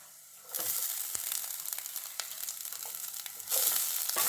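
Coconut lightly fries in a pan for mushroom gravy masala, a bright close sizzle that swells in after a quiet start, with scraping stirs, a brief dip, then louder sizzling again at the end.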